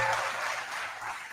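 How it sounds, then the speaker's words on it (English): A school audience at a spring concert and awards recognition applauds the class of 2021, a steady wash of clapping that is brief and moderately loud. "let's give our class of 2021 a huge round of applause"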